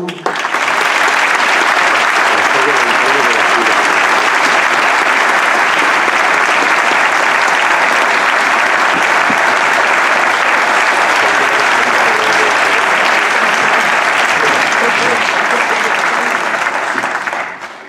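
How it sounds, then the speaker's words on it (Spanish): A large audience in Toledo applauds Rafael del Cerro before his Corpus proclamation speech, loud dense clapping that holds evenly for a long stretch and stops abruptly at the end. "Demos un fuerte aplauso, a don Rafael del Cerro"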